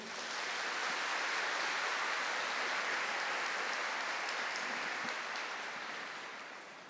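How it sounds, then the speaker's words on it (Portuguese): A church congregation claps together, a soft, even wash of applause that swells quickly and holds before fading slightly at the close. "Uma salva de palmas a você."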